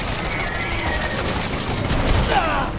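Rapid gunfire in Resident Evil 7, a dense, steady fusillade of shots at close range with a faint voice beneath.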